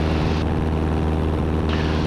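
A Super Cub light aircraft's propeller engine drones loud and steady in flight, heard from the cockpit as a constant, unbroken roar.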